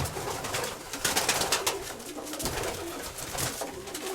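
Soft, low cooing from a pigeon rolls on continuously beneath a steady hiss of background noise.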